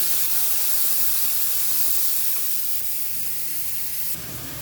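Chopped tomatoes are dropped into a hot pan, and a steady, loud, close sizzle and hiss fills the whole stretch, easing slightly near the end. No voices are heard.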